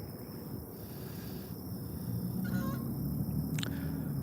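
Geese honk near water during a fishing outing, a few faint, brief honks over steady wind and low outdoor rumble, with no talking.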